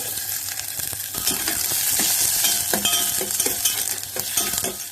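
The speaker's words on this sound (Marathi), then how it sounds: "तेल जरा गरम झालं की मग कांदा घालायचा" Onions frying in hot oil for a Goan egg curry: a steady, close sizzle with a dense crackle, broken by soft scraping stirs, and no voices.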